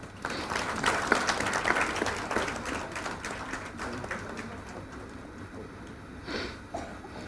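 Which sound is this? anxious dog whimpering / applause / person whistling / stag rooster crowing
applause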